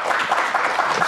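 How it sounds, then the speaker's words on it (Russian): Audience applause in a hall during a televised evening show in the Kalinkovichi district of Gomel, a short burst of dense, steady clapping from a crowd filling the whole moment. "Аплодисменты."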